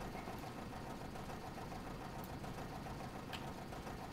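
A steady, low idle of a video game simulation of a Corris Railway locomotive running light rumbles continuously with a faint mechanical hum, no voices, constant level throughout.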